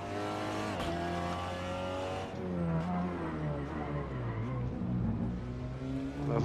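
Race car in a sim racing game at Laguna Seca, loud engine drone with shifting pitch as the tires lock under braking and squeal, engine revving and dropping continuously throughout.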